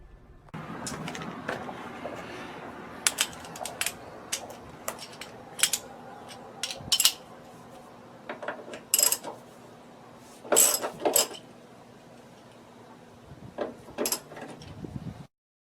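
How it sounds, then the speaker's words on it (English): A socket wrench undoes the six bolts holding a 50 inch RC LED light bar, sounding as repeated sharp ratcheting clicks and metallic clanks in irregular bursts, close and moderately loud, with no talking. "we're just going to undo those 6 bolts and put this new one in"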